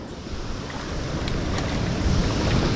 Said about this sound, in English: Keep an eye on the waves.